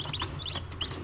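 Newly hatched baby chicks peeping in high, brief chirps over a steady low hum, a few faint cheeps scattered across a second.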